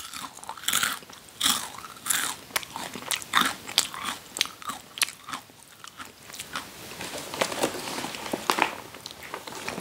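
Crisp bites into a crunchy puffed rice bar with cashews and dark cocoa make a series of sharp, close crunches followed by quieter chewing crackles, with no talking.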